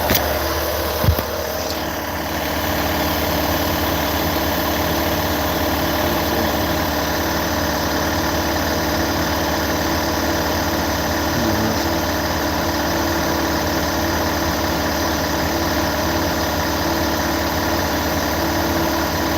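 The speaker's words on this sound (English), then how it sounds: "so I just checked and it's a two-stroke engine" A two-stroke engine idles steadily and close by for the whole stretch, a continuous mid-low drone with faint vibration, after a brief knock near the start.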